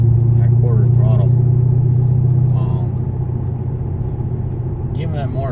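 A 2005 Mercedes-Benz E55 exhaust rumbles at quarter throttle from inside the car, a deep steady drone that eases off slightly, with someone talking over it.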